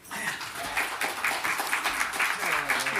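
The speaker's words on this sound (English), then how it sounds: "Let's give him a round of applause." Audience applause greets a keynote speaker at a conference talk, with steady clapping spread across the whole span and voices mixed in.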